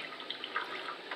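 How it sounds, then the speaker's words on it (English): A small splash of water is poured into a pan of gambas cooking with onion, a soft, brief trickling of liquid heard up close and faint. "Then we'll just add a bit of water."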